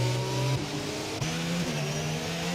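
A Honda-powered Formula 1 car in a racing game at the Singapore circuit revs hard, its high steady engine whine stepping through quick gear changes while the car holds loud and close.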